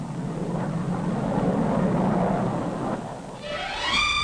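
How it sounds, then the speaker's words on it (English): A passenger jet airliner, a clipper crossing the Atlantic, roars loudly and steadily overhead as a broad rumbling wash, with a rising tonal whine coming in near the end. "The first passenger jet clipper to fly the Atlantic."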